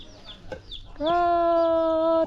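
Farm chickens kept for eggs and fed on corn, one bird letting out a single loud, drawn-out squawking call held for over a second after softer scattered clucks and rustling.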